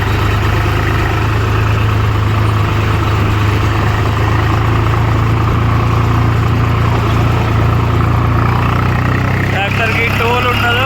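A tractor engine hauling a load of sand drones loud and close, a steady low rumble with a mid-range rattle that holds without a break for the whole stretch.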